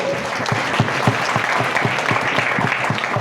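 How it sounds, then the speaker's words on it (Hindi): An audience at a Hindi poetry recital applauds a performer, a thick wash of clapping with a steady underlying beat that carries on without a break. "शुक्रिया दीप्ति शिखा जी, एक बार के लिए तालियां बजा दीजिए।"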